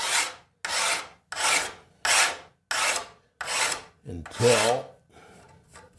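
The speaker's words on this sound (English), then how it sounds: "And then I just take the file and I rake it across" A steel file raked across a scraper blade to sharpen it, sounding as six loud, even rasping strokes in a steady rhythm, close up, followed by a short rougher scrape and a faint trailing rub.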